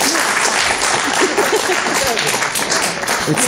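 Dense, steady applause from a crowd, broad and continuous throughout, with a few voices mixed in.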